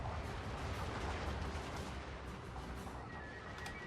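Artillery bombardment in the video game Fall of the Samurai sounds as a dense, continuous rumble of booms and gunfire, a dull low roar with overlapping blasts, distant rather than sharp.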